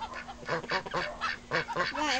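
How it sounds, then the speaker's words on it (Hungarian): Yard ducks quack close by in a rapid, uneven series of nasal calls, several birds overlapping, with no one talking. "itt vannak a nagyon cuki kacsák"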